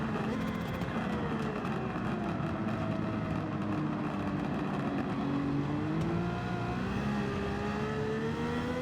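A 1980s Nissan Skyline GT-R with a swapped engine accelerating in Gran Turismo 7, a loud continuous engine roar rising and falling in pitch through the gears during a race, with faint voices beneath.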